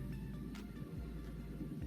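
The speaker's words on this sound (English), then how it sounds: "My neighbor's got the loudest truck in the world." A heavy truck engine rumbles steadily and loudly at close range, a deep continuous drone with no voices.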